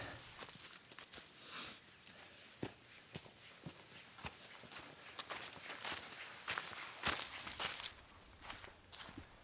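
Footsteps crunching along a forest hiking trail in Wayne National Forest, Ohio, in a steady walking rhythm, quiet and close, with no talking.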